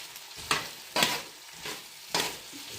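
Swedish pyttipanna, a potato and meat hash seasoned with chili powder, is stirred in a frying pan, with four soft scraping strokes over a low sizzle, close and fairly quiet.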